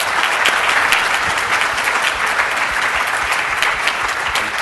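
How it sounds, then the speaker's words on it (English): A conference audience gives steady, dense applause for panel presenters at a patient-community event, loud and sustained with no talk over it for several seconds. "I want to thank one round of applause to our presenters"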